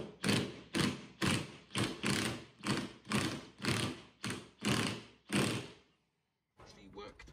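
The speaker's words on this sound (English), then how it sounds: "when you screw this down like so, it should pull the bearing up." A puller is screwed down on a Mercedes R107 rear hub to draw out the bearing, making about a dozen evenly spaced, loud, close grinding strokes in a steady rhythm, followed by a short silence and a faint final sound.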